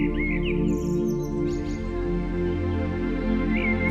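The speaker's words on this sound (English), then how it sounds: "You begin to hear birds singing" Faint bird chirps and short twittering calls sound over a steady low hum, distant and sparse.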